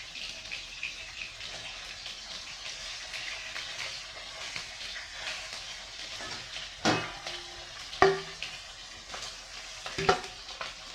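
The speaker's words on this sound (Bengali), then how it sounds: "মাছটা আমার ভাজা হয়ে গেছে এবার এটাকে আমি তুলে নেব বেশি ভাজবো না" A soft, steady sizzle of bhola fish frying in mustard oil, broken by a few louder clinks and scrapes of a utensil against the pan.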